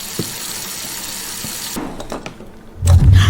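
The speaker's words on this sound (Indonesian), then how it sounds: "Tapi tiba-tiba ia mendengar suara keran menyala sendiri." Quiet room noise, then a few clicks and a faucet turning on, with water rushing loudly into a sink at the end.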